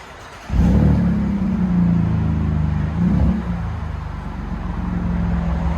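A 2019 Chevy Colorado Z71 with a 3.6L V6 and Vibrant resonator exhaust starts up, settling into a deep, steady idle rumble with a brief blip of revs around the middle, close and loud, with no talking.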